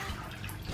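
A quart of water pours into a container for a salt brine for chicken, a brief, steady splash and trickle heard close up with no talking.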